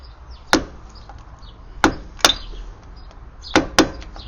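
A hammer and punch stake the axle nut on a Chevrolet Aveo during a driveshaft replacement, giving five sharp metallic blows in uneven pairs and singles, close and loud, with brief ringing between strikes.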